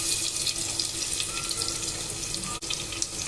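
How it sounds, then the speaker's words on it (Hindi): Running tap water pours steadily into a kitchen sink as rice and lentils are washed together for khichdi, a close, continuous splashing stream with no voices. "ये सारे चावल और दाल को एक साथ मिलाकर धो लेते हैं और अच्छे से छान लेंगे पानी इसका"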